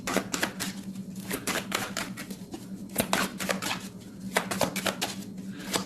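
Tarot cards being shuffled and cut by hand, a quick run of sharp papery slaps and flicks in uneven bursts, close and clear with a low steady hum underneath and no talk.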